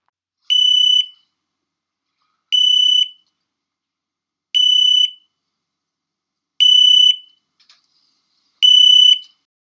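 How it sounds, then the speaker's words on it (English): An LVAD system controller sounds its no external power alarm: five identical high-pitched electronic beeps, each about half a second long, repeat evenly every two seconds against complete silence. "the no external power alarm is indicated on the system controller rather than the mobile power unit module"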